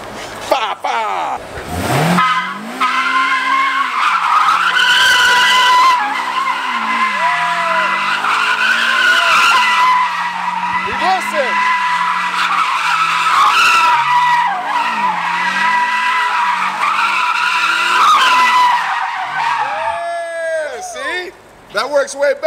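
Tires of a BMW E46 M3 screech through a clutch-kick drift, a loud sustained squeal with rising and falling engine revs over about twenty seconds, with people talking over it.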